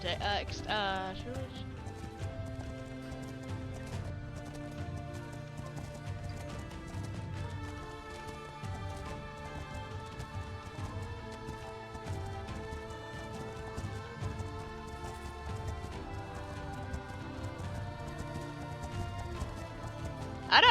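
Herd of wild horses in a video game, faint drumming hoofbeats running throughout under game music, with a talking voice over the top.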